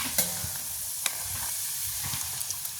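Vada dough frying in hot oil in a village kitchen, a steady close crackling sizzle with a few sharp pops and splashes as the pieces are stirred.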